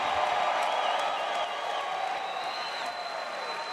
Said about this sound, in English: let's have a round of applause for these two lightweight warriors